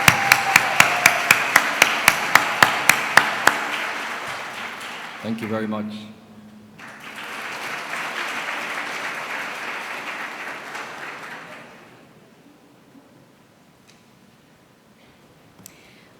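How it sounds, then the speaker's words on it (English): Sharp regular taps open the moment, then a burst of audience applause at a Year 13 graduation ceremony held at Parador de Golf, followed by a longer stretch of clapping that fades out; a voice briefly says thanks. "an even bigger round of applause for her"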